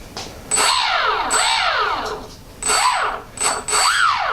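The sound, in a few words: electric motor of Multiplex PC-6 Pilatus RC model plane spinning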